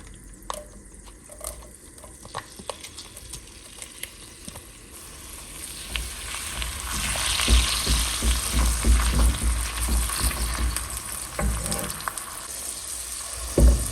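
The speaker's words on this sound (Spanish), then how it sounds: "En una cacerola vamos a agregar media cebolla picada." Half a chopped onion frying in a saucepan, starting as faint crackles and swelling into a steady, fairly loud sizzle with sharp pops and stirring knocks through the second half, no voices.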